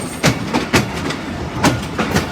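The Chenab Express passenger train rolls into Phularwan railway station in Pakistan, its wheels clacking rhythmically over the rail joints in steady, loud paired beats above a continuous rumble.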